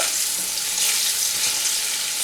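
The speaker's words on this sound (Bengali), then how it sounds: "আলুটা আমি একটু লাল করে ভেজে নেব।" Potato pieces sizzle in hot oil with a little turmeric in a home kitchen, a loud constant frying hiss that fills the whole moment without pause.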